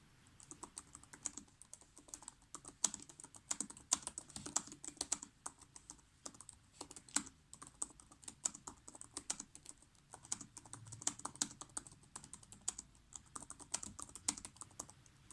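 Rapid typing on a laptop keyboard, a steady stream of light clicky keystrokes with occasional heavier taps, close and with no speech.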